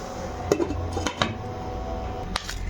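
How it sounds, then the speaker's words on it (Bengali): A metal lid is set onto a cooking pot with a few sharp clanks and clinks close by, followed by quieter rattles and one more clink near the end. "ঢাকনাটা বন্ধ করে সেদ্ধ করতে দেবো।"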